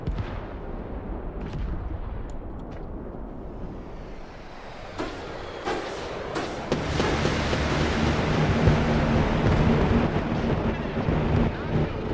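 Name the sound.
airstrike bombing run in the video game Broken Arrow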